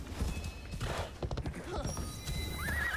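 Horse hooves clip-clop and a horse whinnies in the video game Assassin's Creed Shadows, with a rising neigh near the end over steady game ambience.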